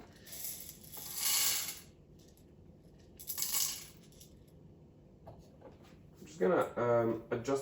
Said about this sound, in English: Gonna adjust the grind size.